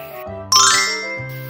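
A drinking glass rings out with a bright clink as it is taken out, a single sharp ding that decays over about a second amid faint clattering.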